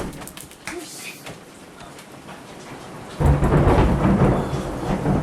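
Heavy rain pours down during a thunderstorm, with a loud roll of thunder breaking in about halfway and the downpour swelling to a dense roar; a voice is briefly heard early on.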